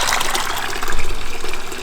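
Liquid poured into a kettle while making a large batch of candy, a steady trickling gush that swells slightly midway, close and fairly loud, with no talking.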